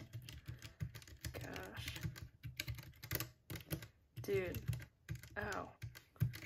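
Rapid clacky typing on a computer keyboard with the keycaps removed, bare unlubed switches clicking in bursts, with a man muttering short exclamations over the keystrokes.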